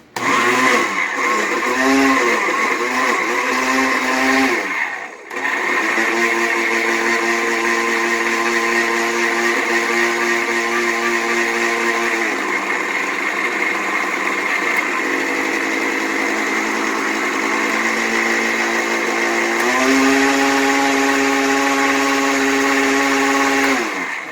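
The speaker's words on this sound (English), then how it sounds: "this way the garlic and the basil gets blended with the last of the tomatoes" A kitchen blender whirs through garlic, basil and tomatoes for red sauce: a loud, sustained motor whine with a brief dip near five seconds, then a steady high drone that shifts pitch a few times over roughly twenty-four seconds.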